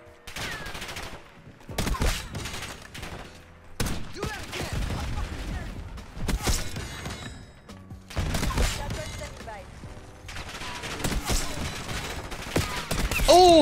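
Rapid bursts of gunfire from the Black Ops 6 shooter game, loud and close, with repeated volleys separated by short pauses and game effects between them.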